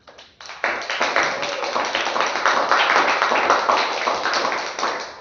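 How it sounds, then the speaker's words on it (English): Applause from a Toastmasters club meeting audience at a Valentine's event, a dense burst of clapping by many hands that starts after a few scattered claps and continues steadily, fairly close. "let's give a round of applause to everyone for supporting this meeting"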